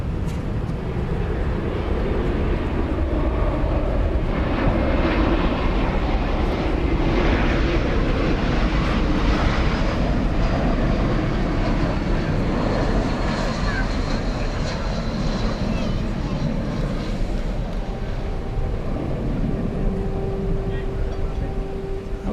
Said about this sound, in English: An Airbus A321 is our next contestant on Runway DFW.